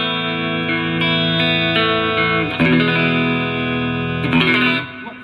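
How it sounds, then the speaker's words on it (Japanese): Electric guitar played through a Zoom G2 Four using its Fender Twin Reverb amp model, in a studio, with sustained, gritty chords rung out and restruck a few times, loud and alone. "ズームの G2-4 はフェンダーのツインリバーブのモデリング"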